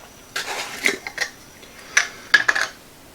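Ice rattling inside a lidded container of iced coffee as it is shaken briefly, a few sharp clinking bursts in quick succession, close and fairly loud.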